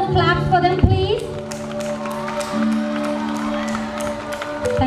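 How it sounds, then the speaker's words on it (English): A school audience applauds prize winners at a children's day celebration, with steady crowd clapping rising after a brief voice and continuing under a sustained tone. "May I hear a thunder of claps for them, please?"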